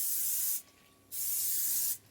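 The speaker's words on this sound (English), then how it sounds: "First thing I'm going to do is spray my pan." Two sustained bursts of oil spray hiss onto a pan, close and loud, separated by a brief pause, with no talking.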